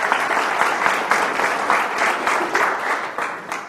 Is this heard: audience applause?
yes